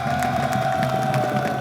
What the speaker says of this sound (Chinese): 我们给所有的承办人员，特别是我们的会长一个热烈的掌声